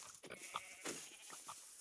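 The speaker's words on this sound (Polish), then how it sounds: "O, owce są." Sheep bleating in a Minecraft horror mod: several short, thin bleats in quick succession over a faint background hiss, close and moderately loud, with no talk.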